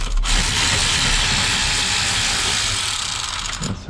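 Ratcheting T20 bit backing out a multifunction switch screw on a 1997 Lincoln-style steering column, a steady close mechanical clicking that runs continuously and loudly throughout with no talk.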